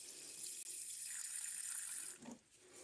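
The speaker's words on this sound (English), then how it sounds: "so I always like to make it a little bit wetter to fill up his water dish" Tap water runs steadily into a pet enclosure's water dish, a soft continuous splashing hiss close by that cuts off abruptly near the end, with no voices.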